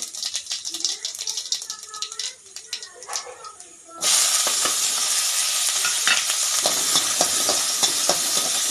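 Mustard seeds, onion and curry leaves hit hot oil for a bottle gourd stir-fry. After a few seconds of quieter kitchen clatter, a sudden loud, steady sizzle starts and holds, crackling close up.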